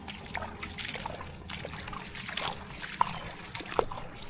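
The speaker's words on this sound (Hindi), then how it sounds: "ये पानी यहाँ से खुल गया है।" Water trickles and splashes softly from an opened irrigation channel near Prayagraj, a low, steady, close-up flow with small gurgles and a couple of brief louder drips, quiet throughout and with no speech.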